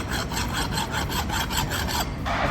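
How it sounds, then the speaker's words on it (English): Steady, rhythmic scraping of a tool against powder-coated metal on a drum cradle, repeated rasping strokes close up and fairly loud, with a brief pause and a rougher stroke near the end. "we got to get rid of some of this powder coat paint, so it's going to kind of scrape it off."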